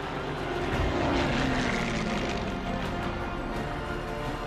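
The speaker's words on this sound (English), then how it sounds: "planes zooming overhead in huge formations" Wartime propeller planes flying overhead in huge formations above a hysterical Paris crowd, a broad continuous engine drone that swells and holds steady, fairly loud and distant-sounding.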